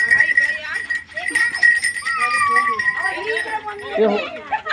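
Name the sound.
goat bleating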